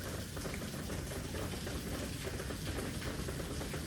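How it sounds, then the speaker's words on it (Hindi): Early-morning rain falling in darkness, a dense, steady hiss of drops without pause, fairly close but soft. "पानी गिर रहा है"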